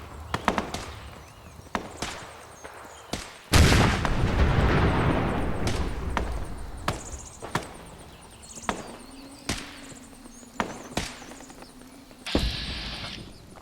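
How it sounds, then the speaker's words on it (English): Robot exploding in Fallout 4: a sudden heavy blast with a rumbling tail that fades over several seconds, set among scattered sharp gunshot-like cracks and thuds before and after. "A robot that's about to explode."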